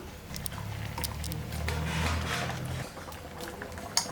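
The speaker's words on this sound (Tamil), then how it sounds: "இந்த அளவுக்கு நல்லா கொதிச்சா போதும்" A pot of bottle gourd kofta curry simmers with a steady low bubbling rumble, with small pops and a sharp click near the end, and no talking.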